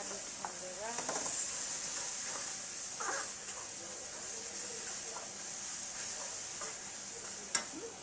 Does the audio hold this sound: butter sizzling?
yes